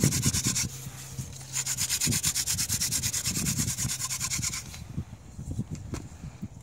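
Steady rhythmic rubbing of a wooden hand-drill spindle against a board for friction fire, fast back-and-forth strokes for about five seconds, then slowing and stopping, close up.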